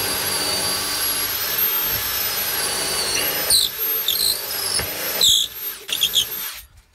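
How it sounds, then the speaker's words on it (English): Drill boring a hole straight down through metal clamped in a vise, a steady high whine with sharp squeals as the bit bites, easing off and stopping near the end. "I already started it with the other drill bit and it was blunt"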